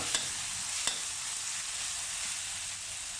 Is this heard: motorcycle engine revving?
no